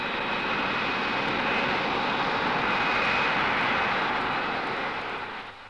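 Steady roar of a Hawker Siddeley military jet aircraft of the Royal Air Force flying past, a loud continuous broadband rush that holds level and then fades slightly at the end.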